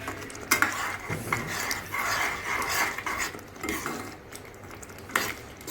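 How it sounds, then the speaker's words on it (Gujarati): A spoon stirring capsicum in a pan while making paneer masala, scraping and clinking over a constant low sizzle, close-up with irregular bursts and no speech. "તો હવે હું આમાં નાખું છું શિમલા મિર્ચ. હવે આને હલાવીશું."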